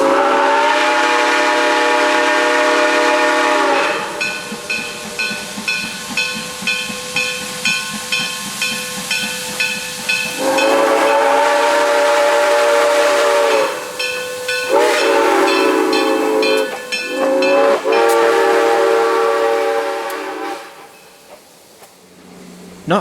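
Steam locomotive 1702 on the Great Smoky Mountains Railroad runs with loud hissing steam and sustained whistle blasts, a rhythmic chuffing between them, fading toward the end, after slowing for a small bridge before a sharp curve.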